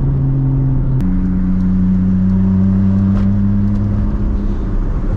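A big-turbo, straight-piped MKIV Supra cruises with a loud, steady engine drone and a low exhaust rumble, the pitch stepping up once early on as the turbo spools under load. It is heard from inside the car.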